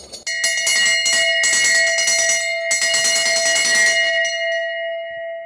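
Omega's Olympic bell for the Paris 2024 Games rings loudly and continuously for about four seconds in a rapid metallic trill, with a brief break partway through, then stops and its tone decays into silence.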